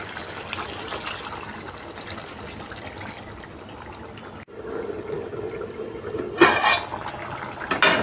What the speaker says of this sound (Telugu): కొన్ని వాటర్ వేయాలండి.